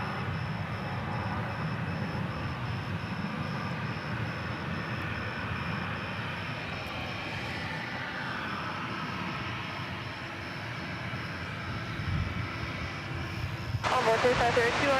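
Jet aircraft at Dallas/Fort Worth Airport, a steady low rumble of engines and air noise holding throughout, fairly distant, with faint voices underneath.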